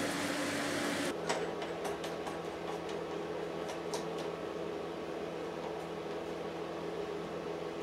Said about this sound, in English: all I've got to do is machine the dovetails in